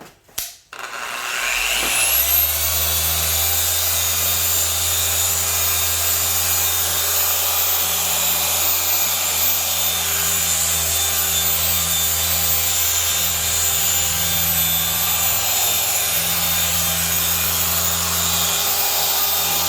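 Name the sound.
dual action polisher running on piano black trim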